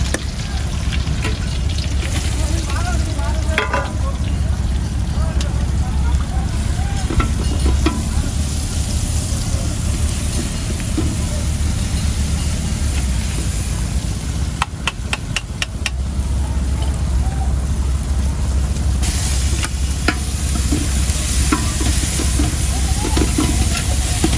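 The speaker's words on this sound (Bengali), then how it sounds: "প্রথমে পেস্ট দিল, এখন যেটা হচ্ছে আমাদের এর আগে যে পেস্ট করা মশলাপাতি ছিল সেগুলো" A ground spice paste fries in a pot in a Bangladeshi village kitchen, a loud continuous sizzle with scraping stirs and occasional clatter, steady for over twenty seconds.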